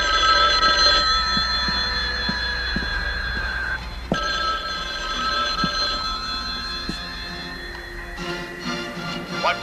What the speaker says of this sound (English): Hey, Cam, would you get the phone?